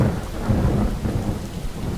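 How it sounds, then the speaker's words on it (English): Rain and thunder in Skyrim: steady heavy rainfall hisses under a deep rolling thunder rumble that swells and fades throughout, with no voices. "I really need to get out of the rain"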